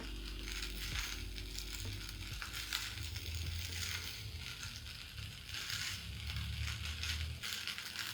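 Carrot rice stir-frying in a pan sizzles and crackles continuously, with scraping and stirring scuffs throughout, close and steady.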